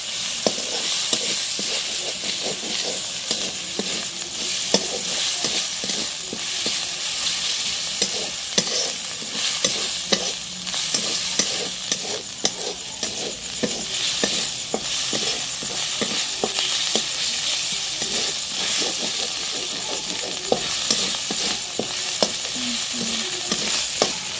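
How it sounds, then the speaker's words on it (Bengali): Spice paste with chopped tomato for a dhaba-style egg tadka is sautéed in a pan. It gives a loud, steady sizzle with constant rhythmic spoon scraping and stirring throughout. "এবার ভালো করে মশলাটা কষিয়ে নেব"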